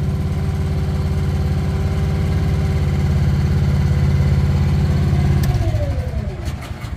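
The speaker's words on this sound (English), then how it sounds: "throttle it down, let it run for a second, cool off." A truck engine idles steadily with a deep low drone after being throttled down, then winds down and fades near the end, heard close and alone.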